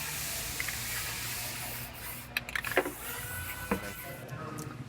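White spray paint dusted over sound deadening pads on a car, a soft steady aerosol hiss broken by a few short clicks and bursts near the middle, fairly quiet and with no talking.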